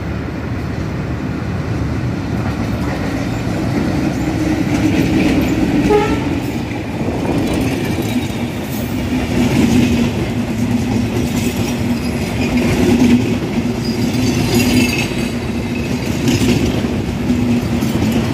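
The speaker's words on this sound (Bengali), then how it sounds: "একই নামের দুইটি ট্রেনের ক্রসিং আপনারা দেখতে পাবেন এই মুহূর্তে।" The Rupsha Express train of Bangladesh Railway rumbles through a station with loud, steady wheel clatter and a sustained horn toot, continuous and close throughout, no voices.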